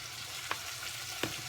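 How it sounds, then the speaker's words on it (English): Homemade sweet and spicy BBQ sauce with cayenne pepper and paprika sizzles and fries in a pan, a steady close hiss with a few brief stirring clicks. "Right, everything's starting to brown. You can hear it starting to sizzle."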